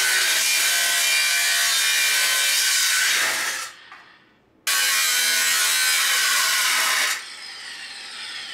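A piece of metal is cut off during a folding trailer hitch build, with a loud continuous power-tool grinding that runs for about three seconds, dies briefly, then resumes before easing to a softer whir near the end.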